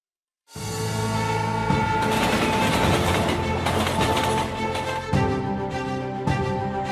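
Vande Bharat express train running on the tracks, heard as a loud, steady roar with rail rumble and occasional clicks throughout, with no talking.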